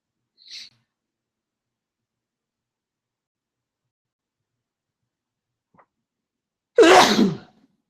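One loud, close sneeze breaks an otherwise near-silent stretch, preceded by a faint short hiss and a tiny click.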